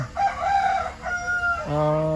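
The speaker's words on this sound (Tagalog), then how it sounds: "Ito yung manok." A rooster on a Filipino farm crows nearby, one full drawn-out cock-a-doodle-doo in several rising and falling tonal segments, loud and clear against a quiet background.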